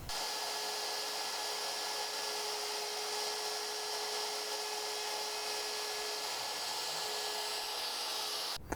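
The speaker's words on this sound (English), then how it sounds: "I'm going to turn the router on, and then I'm going to lightly plunge the bit down into the workpiece" A steady high-pitched whine runs throughout, a router with a straight bit spinning continuously at close range as it plunges into wood, with no talking.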